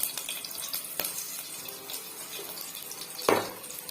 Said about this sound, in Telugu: ఇవన్నీ కొద్దిసేపు వేగనిచ్చుకుందాము.